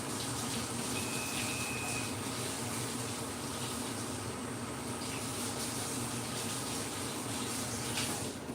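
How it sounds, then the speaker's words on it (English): Cool tap water runs steadily over hands at a kitchen sink, a constant close hiss and splash that continues without pause. "I'm gonna actually run some cool water over my hands"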